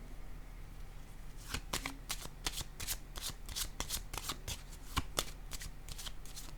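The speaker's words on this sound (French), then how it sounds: "Attendez, je vais déposer une carte sur l'empereur." Tarot cards are shuffled in a string of crisp, rapid riffles and slaps, close and fairly quiet, with no voice over them.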